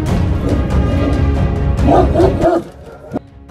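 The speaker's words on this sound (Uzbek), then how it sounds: "Alabay yer yuzidagi eng ulkan itlardan biri." An Alabai, a large Central Asian shepherd dog, gives several deep, loud barks in quick succession, followed by a short yip near the end.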